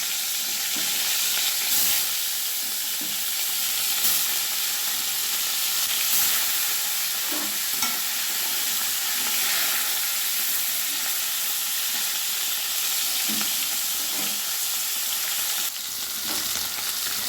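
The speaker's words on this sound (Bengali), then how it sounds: "সর্ষের তেল গরম হয়ে এসছে কড়াইয়ে, এবার আমি মাছগুলো ভেজে নেব।" Steady, loud sizzling of rohu fish frying in hot mustard oil in a wok, a continuous crackling hiss with occasional sharper pops and spatters, no voices.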